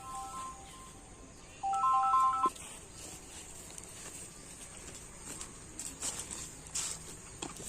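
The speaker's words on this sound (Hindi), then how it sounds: "तुम्हारा फोन आ रहा है।" A short electronic phone ringtone melody plays briefly, then faint tones and rustling follow in a quiet room.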